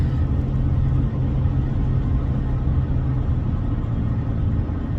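A car drives along a backroad with a steady, low engine rumble and road drone that holds evenly throughout.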